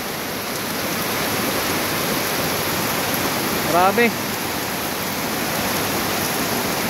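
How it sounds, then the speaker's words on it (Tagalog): Heavy rain pours without letup onto a flooded street in Holy Spirit, Quezon City, where knee-deep floodwater has swamped a tricycle. It makes a steady, dense hiss that runs unbroken throughout, with a brief voice cutting in near the middle. "walang tigil yung ulan"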